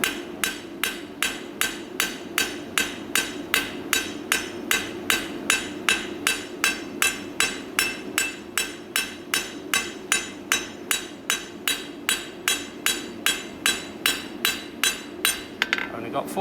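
A hammer strikes a square bar being forged round on an anvil, with a steady rhythm of evenly spaced sharp metallic blows, around three per second, close and loud over a low background hum.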